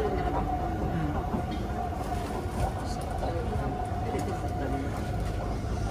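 A train ride in Singapore: the carriage sends out a steady, unbroken rumble and rolling hum, with muffled voices blending into the background throughout.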